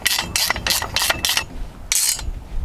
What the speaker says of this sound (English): And we will do up our bolts.